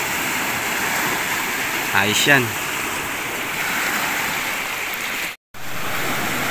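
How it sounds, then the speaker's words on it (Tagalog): Strong waves washing on open water, a steady broadband rush like surf filling the whole clip, with a brief voice speaking over it near the start. "Lakas ng alon guys."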